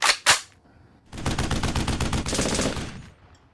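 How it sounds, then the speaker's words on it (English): A Tommy gun fires two sharp single shots, then a rapid sustained burst of automatic fire lasting about two seconds, loud and close. "My Tommy gun won't stop."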